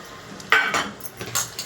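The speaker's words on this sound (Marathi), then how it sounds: "चांगलं मिक्स करून घ्यायचं असं." Fried chili bhaji being tossed with chili powder makes brief clinks and scrapes of a spoon against a dish, a few light taps close by.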